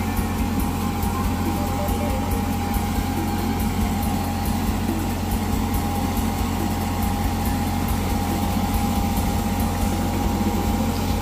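A small 24-horsepower Kubota tractor engine chugs steadily at idle-like pace in a cassava field, a constant low drone with a rattling edge, running alone without any talk.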